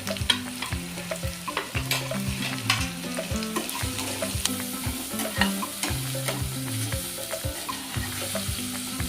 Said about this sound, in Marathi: चिमूटभर हिंग टाकू।